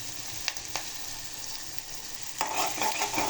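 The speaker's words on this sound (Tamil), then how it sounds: "ஒரு பாதி வெங்காயம் போட்டிருக்கேன். நல்லா வதங்கட்டும்." Onions sauté in a pan with a close, steady sizzle, a couple of light utensil taps early on, then a louder burst of frying as they are stirred.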